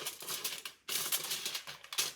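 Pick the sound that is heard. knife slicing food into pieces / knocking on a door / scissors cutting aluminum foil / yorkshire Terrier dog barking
scissors cutting aluminum foil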